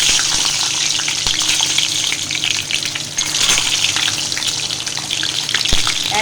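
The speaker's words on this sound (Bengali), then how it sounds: "তো ডিমটা ভেজে নেব" An egg fries in a kadai with a loud, steady sizzle and crackle up close, and a few scattered clicks and pops cut through, with no speech.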